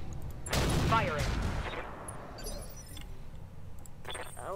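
Mech weapons firing in the Roguetech battle game: a loud burst of rattling fire that fades into ringing metallic clinks and scattered smaller pops, with a faint radio-like voice in the background.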